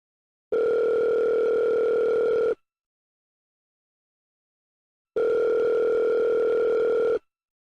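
Two identical phone ringtones, each about two seconds long, separated by a few seconds of silence, steady and clear with no voices.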